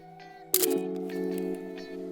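The shutter of a Canon AE-1 Program film SLR with a 28mm lens releases in one crisp, close mechanical snap, followed by a short ringing mechanical tail in an otherwise quiet setting.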